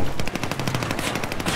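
Automatic weapon fire in the video game Battlefield 4: a loud, rapid, unbroken burst of machine-gun shots rattling steadily from start to finish.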